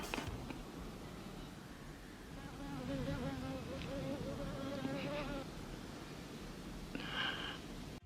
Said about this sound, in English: the annoying buzz of a fly